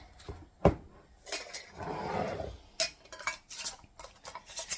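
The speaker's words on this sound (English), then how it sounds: "So then we're just going to put the lids on it." Lids go onto glass jars of homemade sun pickles made with cucumbers, with a sharp close clink, then a soft rubbing twist and several quick metallic taps and clatters.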